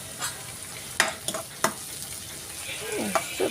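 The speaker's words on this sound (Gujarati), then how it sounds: "સતળાઈ ગઈ છે, તેલ છૂટું પડી ગયું." Masala for a Gujarati-style cashew curry sautéing in oil after the oil has separated, giving a steady close sizzle with a few sharp stirring scrapes and clinks, no talk over it.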